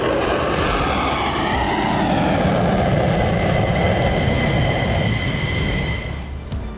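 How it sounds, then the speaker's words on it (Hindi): Israeli fighter jets taking off one after another from an airbase runway at night, a loud, steady engine roar that builds and holds, then eases slightly toward the end. "रात के सन्नाटे में गूंजने लगी फाइटर विमानों की आवाज"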